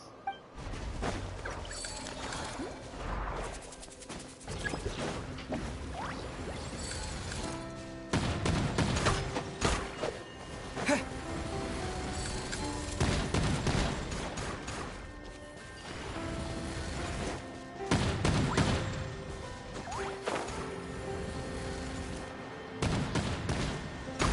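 Turrets firing in the Genshin Impact video game, dense crashing and clattering bursts that come in repeated loud waves over a continuous bed of game noise.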